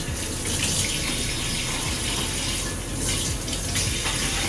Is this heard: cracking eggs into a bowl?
no